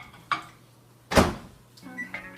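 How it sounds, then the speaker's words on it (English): A microwave oven being set to cook an omelette in a mug: a click, a heavy door thunk, then a short series of electronic beeps as it starts up. "Pop that in the microwave."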